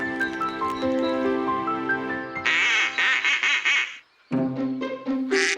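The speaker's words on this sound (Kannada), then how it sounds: "ಆ ಶಬ್ದನ ನಾವು ಕ್ವಾಕಿಂಗ್ ಅಂತೀವಿ" Loud duck quacks come in several nasal bursts over bright background music, with a short pause before they start again.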